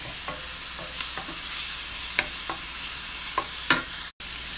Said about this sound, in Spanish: y lo vamos a sofreír